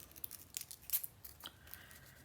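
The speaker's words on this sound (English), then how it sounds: "with my scissors, I'm just going to remove some of the tips of those little fringed pieces" Small craft scissors snip the tips off fringed paper strips for a papercraft feather, a series of quiet, crisp close-up cuts in an irregular rhythm with faint paper rustling between them.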